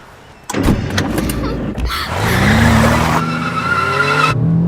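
A car driven hard and fast, its engine roaring loud and close as the tires skid and squeal in a rising, sustained screech that cuts off sharply at the end.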